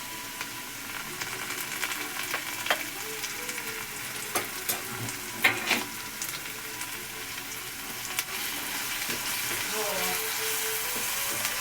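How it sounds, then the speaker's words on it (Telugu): Onions and green chili paste frying in a pan, a steady soft sizzle with occasional stirring clinks and scrapes, close and moderately quiet, no talking. "ఉల్లిపాయలతో పాటు పచ్చిమిర్చిని బాగా వేయించాలి"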